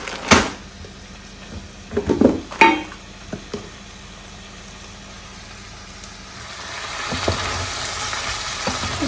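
Egg frying in oil with onion and green chili: a few loud clanks of pan and utensil at the start, then a sizzle that grows steadily louder and fills the latter half.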